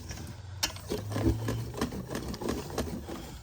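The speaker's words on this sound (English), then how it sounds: "Just breaking up the eggs a little bit, we're gonna keep whisking." Eggs being whisked for a pumpkin black sesame pie filling, with a quick, rhythmic clatter of a whisk against a bowl running steadily throughout at close range.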